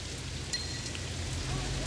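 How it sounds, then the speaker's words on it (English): Rain falling in the video game Sleeping Dogs, a steady soft hiss of drops on surfaces that continues throughout, with a faint brief chime partway through. "It's raining."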